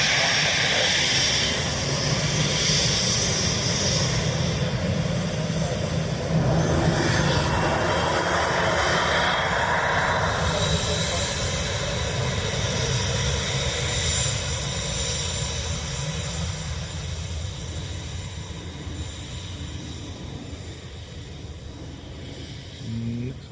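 An airliner landing on runway 2 left at Dublin Airport, its jet engines a steady broad roar with hiss that holds for the whole stretch and fades slightly toward the end.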